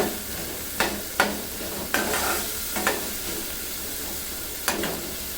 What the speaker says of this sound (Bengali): এখন এই আলুটাকে আমি কিছুক্ষণ কষিয়ে নেব আলুটা যেহেতু ভাজা হয়নি আলুটাকে কষিয়ে নিতে হবে একটু নেড়ে চেড়ে